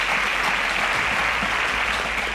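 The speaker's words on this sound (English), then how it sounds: "A round of applause for them." An audience on a Nigerian televised school quiz show breaks into a steady burst of clapping, dense and even throughout the short stretch, with no speech over it.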